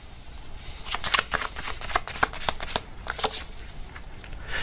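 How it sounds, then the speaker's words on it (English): Tarot cards are shuffled close up in a steady run of crisp, rapid riffling flutters and soft slaps lasting several seconds, with no talking. "let me get another card here"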